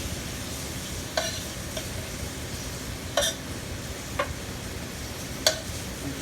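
Beef tips sizzle in oil with browning flour in a pan, a quiet steady frying hiss broken by a few sharp clicks and scrapes of stirring.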